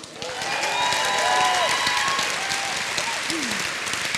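Concert audience at a Christmas choir performance applauds and cheers for a soloist: loud, dense clapping with scattered whoops and calls, sustained throughout at close range.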